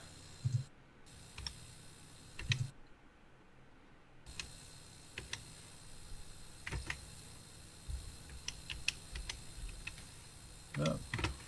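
Typing on a vintage computer keyboard, irregular light key clicks and taps scattered over several seconds, faint and close, with a short burst of quicker clacks near the end.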